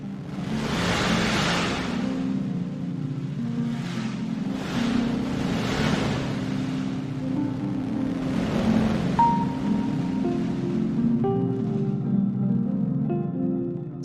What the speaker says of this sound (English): So what you're listening to here is the noise given off as matter gets sucked into the black hole,